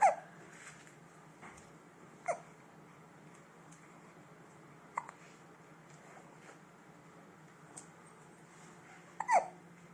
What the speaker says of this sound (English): You got the hiccups, bud?